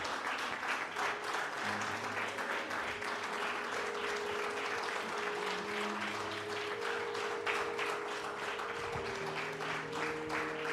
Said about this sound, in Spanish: Aplauso al Rey de Reyes,